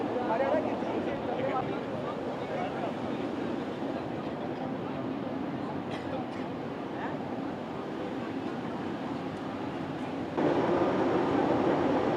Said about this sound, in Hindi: तो ये जो नई ट्रेन बन के तैयार हुई है